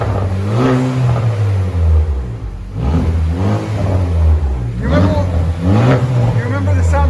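A 2019 Chevy Malibu turbo engine with straight-pipe exhaust and the resonator removed revs repeatedly, its rough tone rising and falling close by, while people talk over it.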